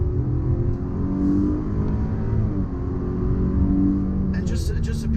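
A 2020 Buick Enclave ST AWD accelerating to pass on the highway, a smooth low engine drone building under steady cabin road rumble, with someone talking throughout.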